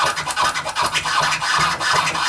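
DJ turntable scratching in a one-click flare pattern mixed with clover tears, a dense run of rapid choppy cuts with fader clicks, loud and close, no voices.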